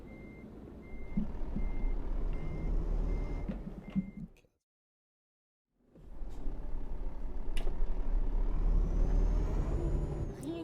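Truck reversing beeps from Euro Truck Simulator 2, heard over a steady engine rumble. The sound cuts to silence for about two seconds midway, then the engine and road noise return.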